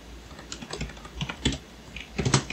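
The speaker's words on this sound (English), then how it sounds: "I'm just pressing tab on my keyboard" Computer keyboard being typed on, with scattered clusters of soft key clicks including repeated tab presses, close and fairly quiet, with no voices.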